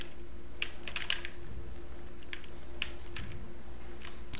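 An old computer keyboard clacks with scattered, sparse keystrokes over a quiet hum during a League of London-style match session of Jhin, faint and close, with no talk.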